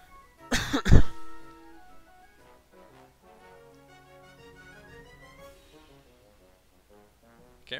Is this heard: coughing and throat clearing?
yes